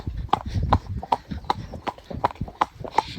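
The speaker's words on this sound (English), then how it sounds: "he just knows his job, this horse. Knows there's a car coming, he pulls in, and we go, come on, let's go, trot on, Doyle." A cob horse trots on a road around a quarry, its hooves clip-clopping in a steady, even rhythm. The beat is close and distinct and continues throughout, with faint background noise and no clear speech.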